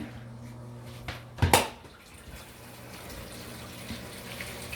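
Water flowing through a Tower Garden hydroponic planter in a home setting, a soft continuous trickle with a brief louder splash early on, then a quiet steady run.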